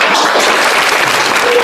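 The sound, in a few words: audience applause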